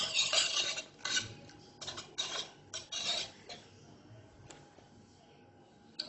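Curd is stirred with salt and red chilli powder, a spoon scraping and clinking in a bowl in short, uneven strokes that fade toward the end.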